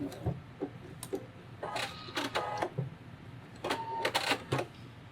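A sewing machine stitches fabric for a flamingo floaty plush in short bursts of rapid mechanical clatter, starting and stopping several times, close and fairly loud with a low hum between runs.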